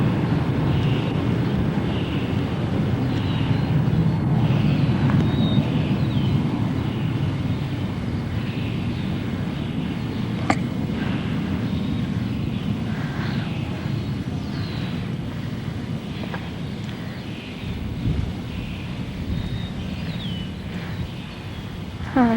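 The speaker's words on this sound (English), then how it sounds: "It is a sky crane." A sky crane aircraft flies overhead, giving a steady, broad, rumbling drone that swells and fades slightly, with wind buffeting the microphone and no voices.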